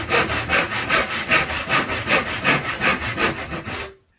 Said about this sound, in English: Every 2 to 3 mil. we're going to cut down here.